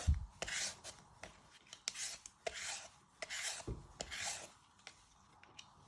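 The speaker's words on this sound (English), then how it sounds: "with the peeler, you're going to start peeling all your skin" Vegetable peeler scraping skin from an apple in repeated short rasping strokes, with occasional small taps, fairly close and fairly quiet, and no talking.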